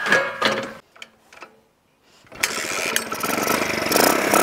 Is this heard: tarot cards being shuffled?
no